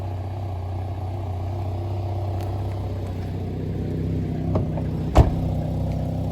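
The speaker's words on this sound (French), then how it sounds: "il y a un petit appel d'air parce que le petit popotement là, alors que le moteur tourne très bien" Peugeot 306 XSI petrol engine idling steadily and close, a low continuous hum broken by a couple of faint pops and one sharper pop near the end, suggesting a slight air leak.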